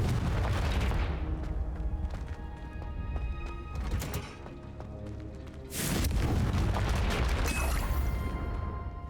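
A Confringo fire spell explodes in Hogwarts Legacy, heavy booming blasts with sharp bursts around the middle and a loud surge near the end, set against continuous game ambience.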